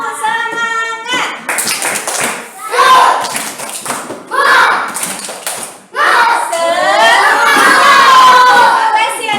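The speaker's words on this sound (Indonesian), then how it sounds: "Ayo tepuk semangat." Schoolchildren in a classroom clap a rhythmic spirit chant in quick bursts, loud and close, with a teacher's voice leading between rounds and children shouting along.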